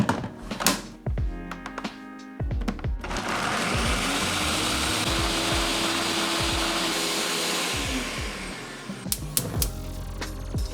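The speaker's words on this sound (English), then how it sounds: "Now we're going to put them in the blender along with our milk and our evaporated milk to blend them really well." A blender whirs steadily as it purées toasted pecans with milk and evaporated milk for capirotada, running continuously for several seconds and then stopping, with clanks and knocks of kitchen handling before and after.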